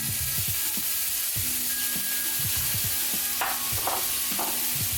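Salted, peppered vegetables sizzle steadily in a hot pan, with repeated tossing and stirring scrapes and a few sharp clinks of utensil on pan, close and loud, with no talking.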